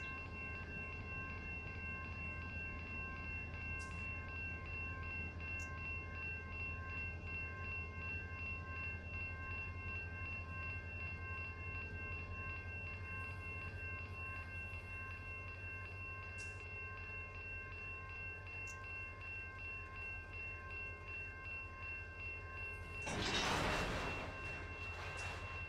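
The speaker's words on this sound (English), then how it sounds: "I'm going to shove back and recouple to the rest of our train." Simulated train in Run 8 Train Simulator shoving back to recouple on the Arvin Branch near Bakersfield, a steady low locomotive rumble with tonal whine, faint clanks, and a brief louder burst near the end.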